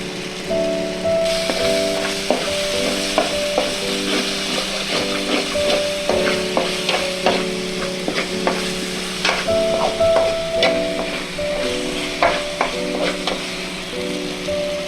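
Crab frying in a pan, a dense steady sizzle broken by regular clattering stirs and scrapes of a spatula at close range, with no voices.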